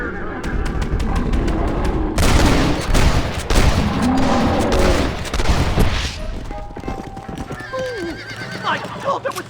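Gunshots fired at a bear in Red Dead Redemption ring out in a loud volley amid frantic horse hooves and whinnies, with voices talking and shouting over the commotion.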